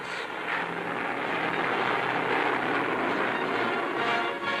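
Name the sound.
squadron of P-38 fighter planes flying over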